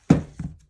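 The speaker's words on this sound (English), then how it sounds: "I'm going to use this big 2-inch punch to cut it out" A big 2-inch paper punch cutting through paper for a sewing-themed card: a sharp close thunk followed by a softer second clunk as the punch releases, brief and alone.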